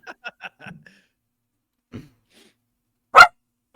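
A dog gives a single loud, sharp noise behind a tree at about three seconds, after a few faint murmured voices early on.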